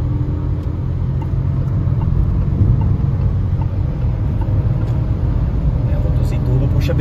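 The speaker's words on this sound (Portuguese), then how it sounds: "É, motorzinho turbo puxa bem, hein?" Peugeot 2008 GT with a turbo engine pulling hard under acceleration, a steady loud in-cabin drone and road rumble running throughout, with a voice talking over it.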